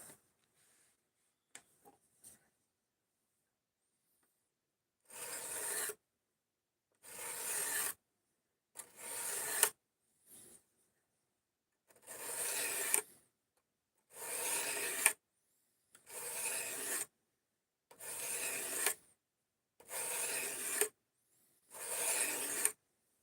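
A cheap Harbor Freight knife sharpener is rubbed in repeated strokes, about ten separate rasping scrapes each lasting roughly a second, spaced by short silences, after a few faint ticks at the start.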